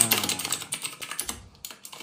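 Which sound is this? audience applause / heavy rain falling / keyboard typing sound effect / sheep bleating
keyboard typing sound effect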